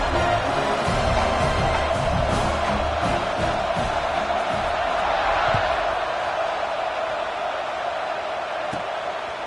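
A stadium crowd at a college football game roars steadily through a kickoff, a dense continuous wash of cheering and shouts with occasional whoops, heard from within the stands.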